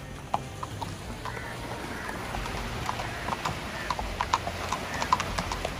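A horse walks on a ranch ride, its hooves clip-clopping in a steady, irregular rhythm of sharp knocks that grow a little louder toward the end, over quiet outdoor background.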